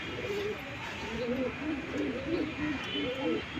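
Pigeons pairing inside an open clay nesting pot, giving repeated soft throaty coos in a slow rolling rhythm, close and steady over a faint background hum.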